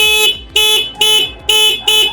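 A loud electric horn on a small Indian-made multipurpose electric mini trike sounds five short, evenly spaced honks, each a bright steady tone, close by with no talk.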